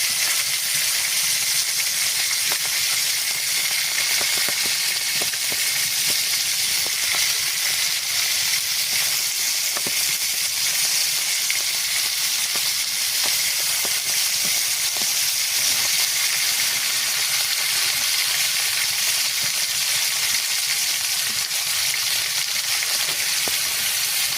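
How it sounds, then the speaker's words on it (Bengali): Snakehead fish sizzles and spits in hot oil in a home kitchen, a steady loud frying hiss that runs unbroken with tiny crackles and pops throughout, no voices. "এই দেখেন মাছ ভাজা চলতেছে"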